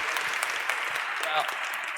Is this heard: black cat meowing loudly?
no